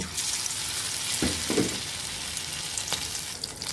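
Yardlong bean and red lentil fritters fry in oil, giving a steady continuous sizzle throughout with a few brief clinks of a utensil against the pan.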